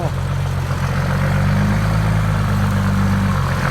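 A heavy tractor engine idles steadily nearby, a low continuous rumble with a droning hum that holds even for a few seconds.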